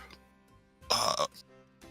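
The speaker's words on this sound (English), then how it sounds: "Bear with me, I'm burping." A single short burp from a player during a live Dungeons & Dragons 5E session, loud and close, rising suddenly out of a quiet room and lasting about a third of a second.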